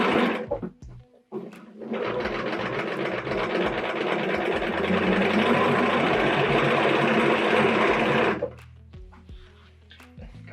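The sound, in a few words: sewing machine stitching a quilt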